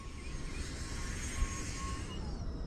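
A radio-controlled B-2 model plane at full power going into a roll, its engine whining steadily in the distance with a faint rising and falling tone.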